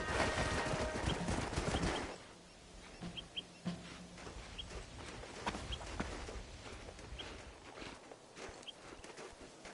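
Horses walk near a cliff, their hooves giving faint, scattered clip-clops against a quiet outdoor background with occasional bird chirps.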